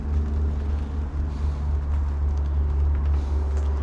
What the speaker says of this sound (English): We live near a highway, so every once in a while you may hear a transport truck